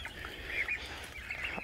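A turkey and chickens squawk together in a backyard flock, harsh, fairly faint honking calls rising and falling across a short stretch, with no talk.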